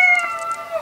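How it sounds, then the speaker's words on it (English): A single short cat meow played by a browser memory game, clear and close with a bright, tonal, slightly synthetic quality. "That's the best part of this game. It just meows when you..."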